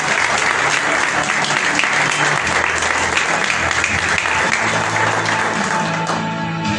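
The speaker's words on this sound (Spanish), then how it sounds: "Dale un fuerte aplauso si quieres hacerlo" A church congregation breaks into loud, sustained applause during a sermon, a dense wash of clapping that holds steady throughout with voices mixed faintly underneath.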